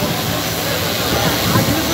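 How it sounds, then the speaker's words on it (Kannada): An agricultural spraying drone flies at an agricultural college fair in Dharwad, producing a loud, steady broadband whirring hiss without pause. "ಡ್ರೋನ್ ಹಾರಾಟ"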